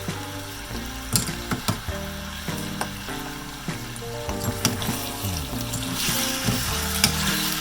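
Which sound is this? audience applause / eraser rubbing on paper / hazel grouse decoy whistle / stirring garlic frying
stirring garlic frying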